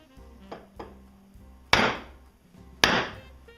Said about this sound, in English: And give it a good whack with the mallet.